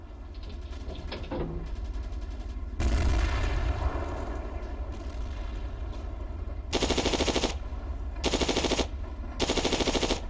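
An MG34 machine gun fires in a video game in several rapid bursts, with a heavy boom partway through and sustained loud gunfire between pauses, close and with no talking.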